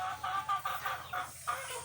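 A flock of KUB chickens clucks and chirps continuously in a rapid, overlapping chorus, close and steady.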